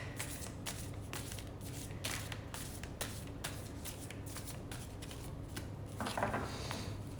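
Oversized playing cards riffle and shuffle in repeated crisp bursts, a steady run of close, dry card snaps with a brief louder flurry near the end, no voices.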